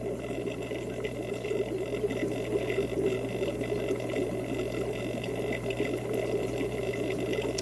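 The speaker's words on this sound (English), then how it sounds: "And there's a lot of bubbles and dripping going on." Water bubbles and drips down a drain in a fish breeding room, a steady low hum with a faint buzz beneath soft continuous trickling and scattered drips, fairly quiet and close.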